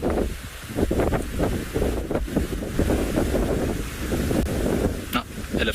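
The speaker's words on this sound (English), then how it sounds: "It's so windy, it's unbelievable." Strong gusting wind buffets the microphone on an afternoon safari drive beside a dam in South Africa, loud and uneven rumbling bursts close up, with a voice speaking briefly under it.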